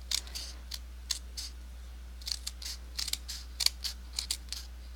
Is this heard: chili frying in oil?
no